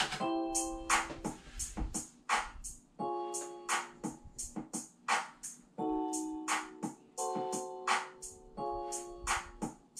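A looping beat made with Ableton stock sounds plays: bright synth chords over punchy, rapid 808 drum hits and deep booming bass kicks, steady and busy throughout with no talking.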